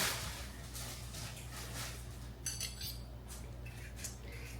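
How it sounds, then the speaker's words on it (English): A utensil scrapes and clinks against a pot while macaroni noodles are stirred with butter, soft repeated taps over a low background hum. "And then I'm stirring this all around in here."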